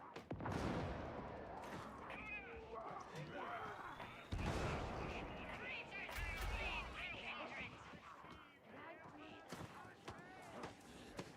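Gunfire from the video game Darktide crackles almost continuously at mid distance, dense bursts and heavy impacts mixed with game noise throughout.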